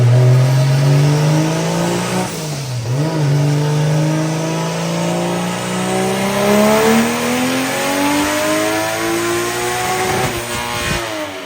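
A 1.5JZ-engined drift car revs up steadily under load on a dyno, dips briefly, then climbs again to a high, loud, sustained whine, with no talking.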